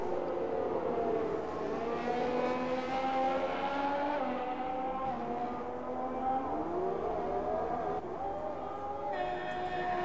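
Number 46 Ferrari race car at speed on a circuit, its engine a steady high whine with rising and falling pitch as it shifts through gears, loud and continuous with faint commentary-like voice in the background.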